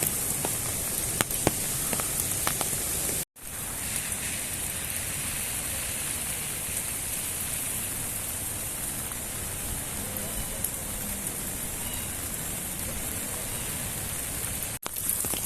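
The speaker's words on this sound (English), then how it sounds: "there's a lot more rain than yesterday" Steady, heavy rain pours down in a dense continuous hiss during the 2022 flooding in Morayfield, with no voices, interrupted by two brief dropouts.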